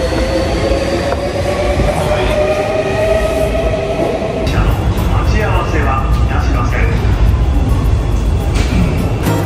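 Bullet train at a station in Japan, with a steady loud rumble of rolling stock and station noise throughout and a rising mechanical whine and clatter in the second half, alongside voices.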